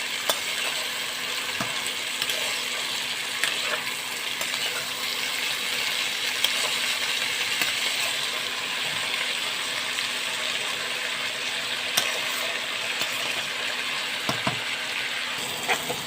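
Snake gourd frying in a pan with turmeric, a continuous even sizzle at moderate level with occasional faint clicks of a spatula, steady throughout.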